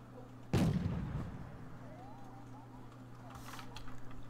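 Tank cannon side shot in a tank video game, a single sharp boom with a short rumbling tail, heard near and loud over a steady engine drone, with commentary voices around it.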